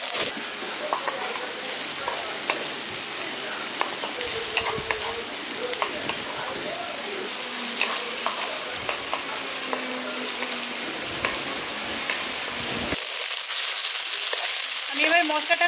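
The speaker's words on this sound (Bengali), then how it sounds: "আমি এবার মশলাটাকে ভালো করে ভেজে নিয়েছি" A masala of chopped tomato and slit green chillies fries in a pan, sizzling steadily with scrapes and stirring clicks, swelling into a louder hiss near the end.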